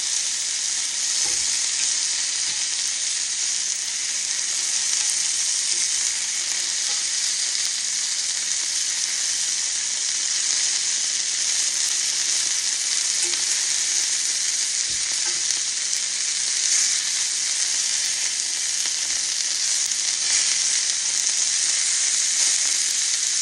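Beef sizzling steadily in a pan with very little grease, a continuous close, bright frying hiss with faint occasional stirring clicks and no talk.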